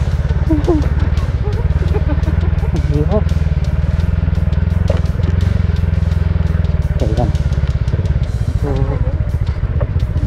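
A motorcycle engine runs steadily and loud at a stream crossing on a trail ride, its low idling rumble constant throughout, with people talking over it.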